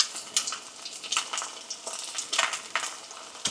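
Eggs frying in a pan over medium-low heat give a steady, close sizzle with soft crackling bursts and no talking.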